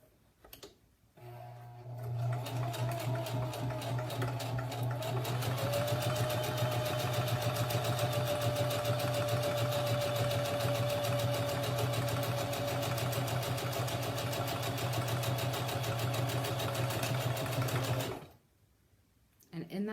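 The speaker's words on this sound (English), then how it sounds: "that sound of a manual heavy-duty machine cranking through layers of fabric" A manual heavy-duty sewing machine cranks through layers of fabric in a rapid, steady mechanical whir with fast ticking stitches, loud and close, running about sixteen seconds before stopping abruptly.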